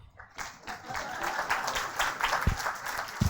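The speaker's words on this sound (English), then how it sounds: "You can clap." Audience at an AI school education conference applauds a certificate of appreciation, a steady wash of clapping from many hands with faint voices mixed in.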